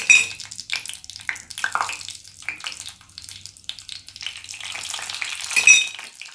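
Fenugreek seeds and a small piece of asafoetida fry in hot oil, giving close, sputtering crackles and pops that come in uneven flurries and swell near the end.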